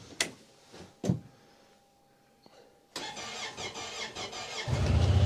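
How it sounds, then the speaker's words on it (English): A Honda Pioneer utility vehicle starts on a very cold day: a few sharp clicks and thumps, a brief pause, then the engine catches and settles into a steady running rumble that grows louder near the end. "Let's see if this Pioneer cranks to life."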